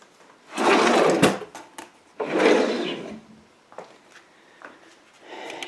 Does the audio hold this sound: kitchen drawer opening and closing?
yes